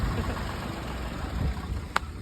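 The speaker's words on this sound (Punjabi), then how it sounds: "ਪ੍ਰਿੰਸ ਦੀ ਮਿਹਨਤ ਸਦਕਾ ਟਰੈਕਟਰ ਬਾਹਰ ਨਿਕਲ ਚੁੱਕੇ ਆ" A tractor engine idles with a low, steady rumble close by, a single sharp click near the end.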